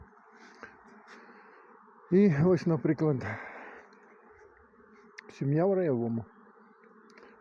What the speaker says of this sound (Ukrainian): Бджоли літають за взятком, да.